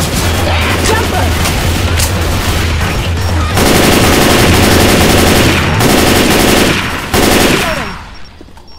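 Rapid automatic gunfire and heavy shots in Left 4 Dead 2 keep up a loud, continuous barrage with brief pauses, then die away at the end, with voices calling out underneath.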